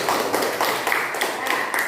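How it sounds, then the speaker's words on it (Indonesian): A classroom of students claps for a classmate named Fikri, a short burst of dense, fairly close applause lasting about two seconds. "Ya, tepuk tangan Fikri."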